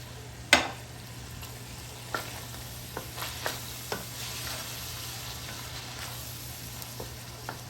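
Meat seasoned with garlic powder and crushed red pepper fries over medium heat with a steady soft sizzle, broken by a few sharp knocks and scrapes of a utensil stirring the pan.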